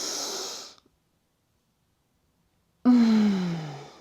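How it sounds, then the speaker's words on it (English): A deep breath in chair yoga: a long, close exhale sweeps down from high airy hiss to a low breathy tone, cut off by a near-silent held pause, then a fresh forceful breath with a descending voiced sigh. "and the deepest breath yet"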